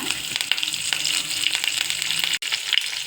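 Cumin, mustard seeds, garlic and curry leaves sizzle and crackle steadily in hot oil while curd rice is being made, a close continuous frying hiss with a brief drop near the end.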